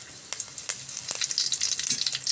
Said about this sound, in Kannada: ಜಜ್ಜಿಟ್ಟಿರೋ ಬೆಳ್ಳುಳ್ಳಿ ಹಾಕ್ಕೊಳ್ತಾ ಇದ್ದೀನಿ. ಅದು ಸ್ವಲ್ಪ ಫ್ರೈ ಮಾಡ್ಕೊಳ್ತೀನಿ.